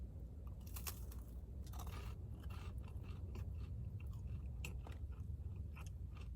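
Close, quiet crunching bites and chewing of Domino's oven-baked churros dusted with cinnamon sugar, with repeated crisp crackles in an irregular rhythm and no talking.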